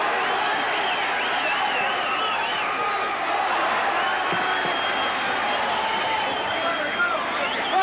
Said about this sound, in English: This parochial Sydney crowd calling for Fenech to finish off the world champion